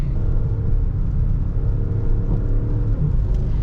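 Range Rover P530 SUV with its new V8 pulling hard in manual mode, a deep, steady engine rumble and drone from inside the cabin, loud and continuous.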